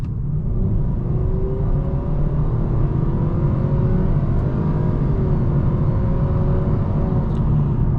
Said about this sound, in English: give a nice stab to the throttle just to see how the transmission reacts